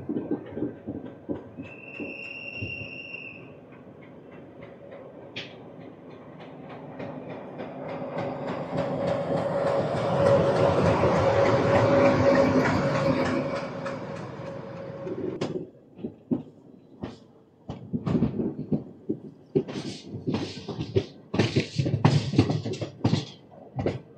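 The Tirupati-Kakinada Town Express 17249 rolls out of Renigunta station, its wheels and carriages rumbling and swelling to a steady roar mid-run before sharper rhythmic clatter and clunks take over near the end.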